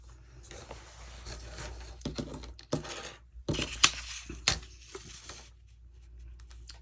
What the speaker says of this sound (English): So I'm going to go ahead and rip this.